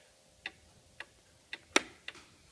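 Antique Black Forest hunter cuckoo clock in painted wood, ticking in sharp, evenly spaced clicks about every half second, quiet and close with one louder tick, no voices.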